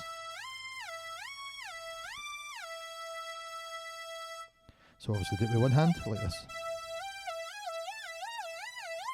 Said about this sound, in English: And now it sounds like a siren going off.